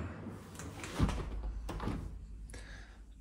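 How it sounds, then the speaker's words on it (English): A laundry room door in a new home swings shut with a soft thud, followed by faint handling rattles, heard close in a quiet room. "Actually gonna close the door."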